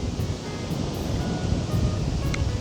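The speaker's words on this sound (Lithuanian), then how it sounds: "Dabar čia jau ramesnis vėjukas." Steady wind blowing across an open fishing quarry, a continuous broadband rush with gentle gusts and buffeting on the microphone, close and fairly loud, no voices.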